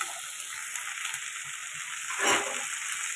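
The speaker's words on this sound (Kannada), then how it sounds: "ಕ್ಯಾಪ್ಸಿಕಮ್ಮು ಎಣ್ಣೆಯಲ್ಲಿ ಚೆನ್ನಾಗಿ ಬೇಯಬೇಕು" Capsicum frying in hot oil in a pan gives a steady, close sizzling hiss with faint stirring scrapes and a brief louder burst near the end, with no voices.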